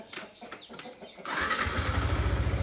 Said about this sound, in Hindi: चलो पहले करते हैं बाइक को स्टार्ट।